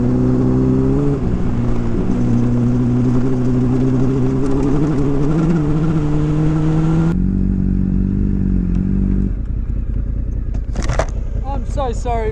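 Motorbike engine humming steadily under the rider, its pitch slowly rising then dropping sharply, with clattering, wind and a voice talking near the end.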